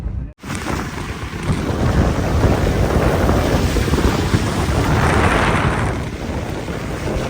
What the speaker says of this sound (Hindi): बाहर यहाँ पे बारिश हो रहा है, कितना खूबसूरत लग रहा है देखिए